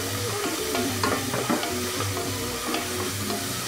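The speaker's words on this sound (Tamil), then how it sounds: "சாப் பண்ணிவிட்டு ஆயில் சூடான பிறகு அந்த இதில் போடணும். போட்டு நல்லா வதக்கிட்டு" Finely chopped onions sauté in hot oil for a Chettinad-style mutton ribs masala, making a loud, continuous close-up sizzle with small crackles and stirring scrapes.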